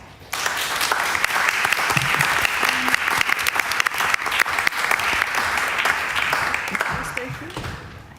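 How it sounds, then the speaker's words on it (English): An audience applauds an author at a European Literature Night event, steady dense clapping starting abruptly and holding at full strength for several seconds before tapering slightly at the end. "I'd like to ask one more last applause for Lorana Vella"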